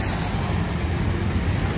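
A Sipirok Nauli intercity bus on the Sumatra route idles with a low, steady exhaust rumble close by, and a brief airy hiss is heard at the start.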